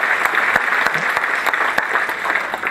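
A stand-up comedy audience applauds in a theater with a lively spread of hand claps, steady and fairly loud, easing slightly toward the end with no talking over it.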